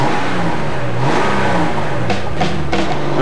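Air-cooled flat-six boxer engine of a 1993 Porsche 911 Carrera running steadily and loud, with a few sharper blips near the end, no talk.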